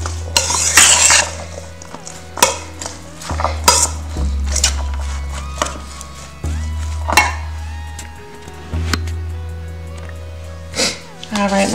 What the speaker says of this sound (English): I'm gonna mix that up.